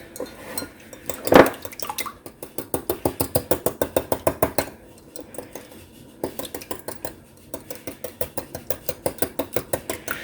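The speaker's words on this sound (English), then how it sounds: "I'm going to use regular old skim milk to begin with, 1/3 cup, and 2 eggs. Whisk it up." Skim milk and eggs are whisked in a bowl, producing fast, rhythmic clinking strokes in steady bursts with brief pauses, close and clear with no talking.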